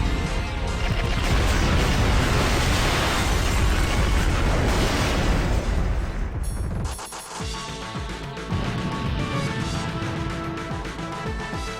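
Bomb blasts in the shoot-'em-up games XIIZEAL and DELTAZEAL, a dense, loud roar of layered explosions for about seven seconds that cuts off abruptly, leaving game effects and music.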